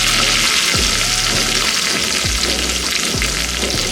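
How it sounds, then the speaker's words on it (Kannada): Spices frying lightly over a low flame for Kannada-style bele rasam, a loud steady crackling sizzle with several soft scraping stirs, no voices. "ಇದೆಲ್ಲ ಸಿಮ್ಮಲ್ಲೇ ಫ್ರೈ ಮಾಡ್ಕೋಬೇಕು, ಲೈಟಾಗಿ ಫ್ರೈ ಮಾಡ್ಕೋಬೇಕು."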